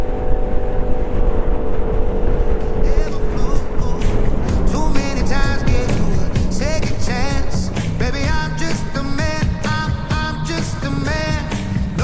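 Vespa GTS scooter accelerating hard toward top speed, its engine note climbing through rising, whining gears over heavy rushing wind noise, loud and close throughout.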